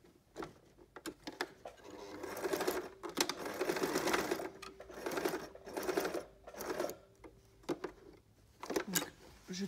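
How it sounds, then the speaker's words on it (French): A sewing machine stitches an apron strap for a gardening or sewing apron, running in several short bursts with pauses between, starting with a backstitch and turning at corners to sew a square with a cross inside, close and moderately loud. "là je passe sous la machine et je commence avec un point d'arrêt"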